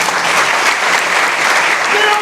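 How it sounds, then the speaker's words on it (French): Dense, steady applause from an audience filling the whole stretch, close and loud with no pauses. "Léon Carré, mesdames et messieurs, on peut l'applaudir"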